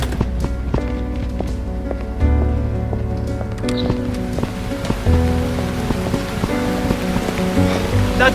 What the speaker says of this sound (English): Bloody rain.